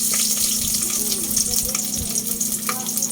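Onion sautéing in a pan for sinigang made with pork belly and taro: a loud, continuous close-up hiss and crackle of frying, with small clicks of stirring and no speech.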